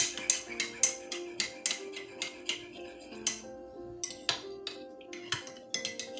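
Ingredients for oat and blueberry muffin batter, with a couple of pinches of cinnamon, stirred in a bowl: a steady run of close, light clinks and scrapes of utensil against the bowl, repeating in a quick rhythm without any talk.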